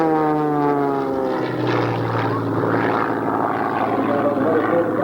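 A single-engine stunt plane resembling a P-51 performs at the 1993 Quonset Point Air Show, its propeller engine droning steadily and loudly with a shifting pitch as it passes, while people talk over it.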